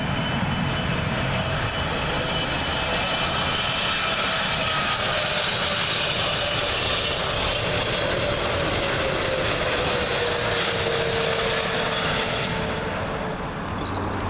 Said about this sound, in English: Up next, American Airlines 777 from LAX.